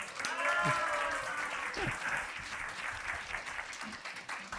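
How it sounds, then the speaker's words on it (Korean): A church congregation breaks into applause, a full burst of clapping that gradually thins out, with a few faint voices underneath. "박수해 주십시오"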